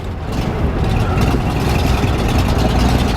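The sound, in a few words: Datsun 240C engine running rough on few cylinders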